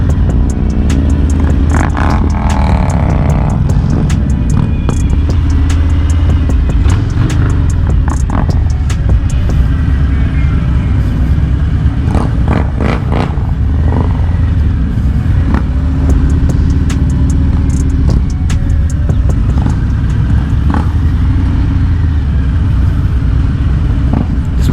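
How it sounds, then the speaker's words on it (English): A massive group ride of about forty motorcycles in South Florida, a loud continuous roar of many engines passing close by, with individual bikes revving and buzzing over the dense rumble. "There's got to be like at least 40 bikes right now from what I'm counting."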